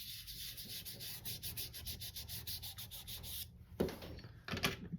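Soft pastel rubs across paper in a steady, close scratchy rhythm of repeated strokes, with a brief pause and then a couple of firmer swipes at the end.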